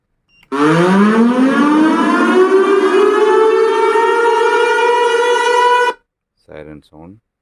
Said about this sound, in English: Siren sound.